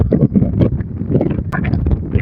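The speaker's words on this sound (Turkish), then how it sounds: "Çok rüzgar var." Strong wind on a high mountain cliff buffeting a microphone, loud irregular rumbling gusts and thumps throughout.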